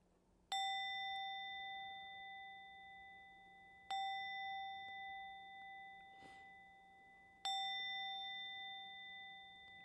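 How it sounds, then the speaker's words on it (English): A meditation chime is struck three times at slow, even intervals. Each bright, clear ring sustains and fades gently in a quiet room. "listen to the sound of the chime now and open your eyes when you're ready"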